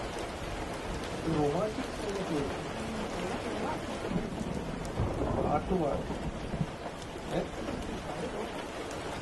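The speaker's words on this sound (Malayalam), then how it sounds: "എന്നാ മഴയാണോ പെയ്യുന്നത്?" Rain falls steadily on surfaces with rolling thunder rumbling underneath, while a voice talks and sings intermittently over the downpour.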